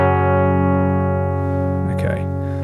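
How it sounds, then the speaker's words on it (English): A guitar amp model on a Nano Cortex, running with no cabinet simulation, lets a chord ring with a thin, fizzy, buzzing tone that slowly decays. A short muttered voice comes in near the end. "that is the sound of an amp that doesn't have a cab"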